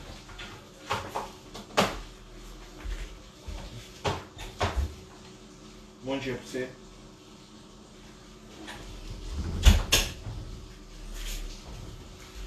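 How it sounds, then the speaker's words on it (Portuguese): A cat knocks on a house door, producing scattered soft thumps and rattles, some in quick clusters, at moderate distance, with a brief spoken greeting partway through. "tem um animalzinho batendo na porta aqui"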